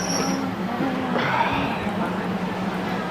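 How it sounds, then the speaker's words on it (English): A train rolls past at a floating market in Thailand, a steady low rumble with faint wheel noise close by, nearby voices murmuring underneath. "As you can see, the train is moving."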